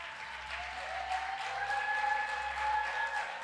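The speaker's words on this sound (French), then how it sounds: "Acclame le Seigneur Jésus." Congregation applauding during a church service, a steady wash of clapping that swells slightly toward the end, with a sustained musical tone running underneath.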